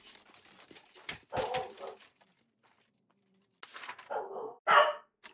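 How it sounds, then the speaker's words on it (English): Dogs barking in two clusters of sharp, fairly loud barks separated by a quiet gap, heard from a short distance indoors. "Dogs are barking."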